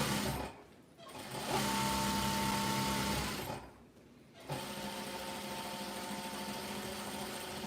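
An industrial serger sewing machine runs in steady bursts, a loud whirring motor hum that cuts out briefly twice before starting again, with no talking.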